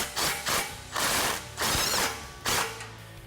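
A ratchet snugs up exhaust clamp nuts on a Ford F-150 Raptor cat-back exhaust, giving four short, close bursts of rapid clicking with brief gaps between them.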